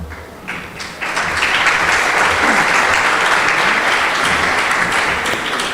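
A crowd applauds at a fashion show held at the French Embassy, starting softer and swelling into steady, dense clapping that is close and loud.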